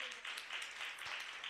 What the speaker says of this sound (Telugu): చప్పట్లు కొడదాం ఒక్కసారి.